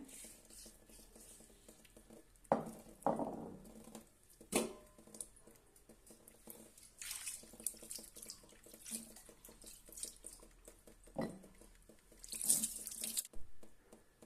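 Tap water runs over a new stone grinding slab (pata-varvanta) while it is washed, with faint splashing, scrubbing and occasional clunks of stone. The sound is quiet and uneven.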